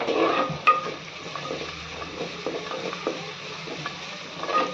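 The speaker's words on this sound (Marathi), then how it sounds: "भाजून घेऊयात छान असं परतून घ्यायचं" Ginger garlic paste being stir-fried in a pan for a spicy dry chicken dish, a low steady sizzle with a spatula scraping and tapping against the pan at intervals.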